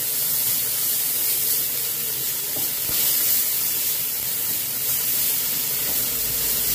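Sautéed onions frying in a pan with grated beetroot added, a dense, even sizzle and hiss that holds steady from start to finish with a few faint stirring clicks.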